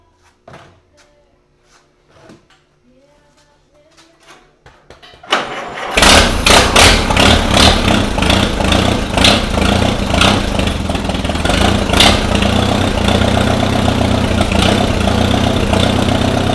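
A small engine on newly reinstalled carburetor equipment cranks and catches, then settles into a loud, steady, rough idle that runs on alone after some quiet handling noises.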